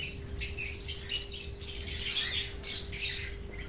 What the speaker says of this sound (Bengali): পায়রা ছাড়া হচ্ছে